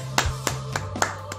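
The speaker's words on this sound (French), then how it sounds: "Applaudissez s'il vous plaît." Hands clap at a steady, moderate pace at a French-speaking Christian gathering, five distinct close claps in quick succession with no other sound around them.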